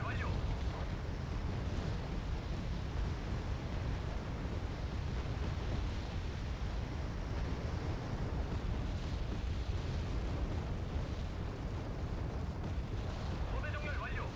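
Artillery strike explosions in the war strategy game Wargame: Red Dragon, heard as a continuous, heavy rumbling barrage of overlapping blasts that stays at an even, dense loudness from start to finish.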